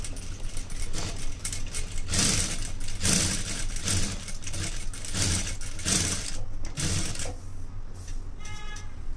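A sewing machine stitches a plain blouse, its rapid mechanical whirr running steadily in bursts and slowing near the end, close and loud with no talking.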